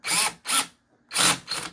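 A power drill on a RUIXIN PRO RX-009 knife sharpener whirs in four short bursts, two quick ones, a pause, then two more, loud and close.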